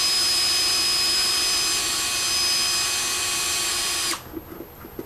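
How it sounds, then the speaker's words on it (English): A power drill runs steadily with a loud high whine while drilling drainage holes in a homemade bonsai dish, then stops abruptly, followed by a few faint knocks. "I'm going to just going to drill some holes in here for drainage"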